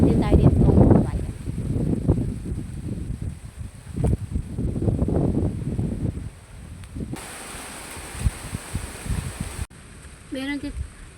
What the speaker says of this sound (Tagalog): Super lakas ang hangin.